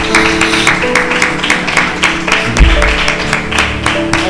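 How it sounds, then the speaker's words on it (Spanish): A church congregation applauding during a sermon, rhythmic clapping with regular sharp beats, loud and close, with music or sustained tones underneath. "Vamos a darle a Dios un fuerte aplauso por eso."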